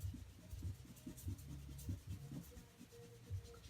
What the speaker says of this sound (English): we are going to erase this top part right here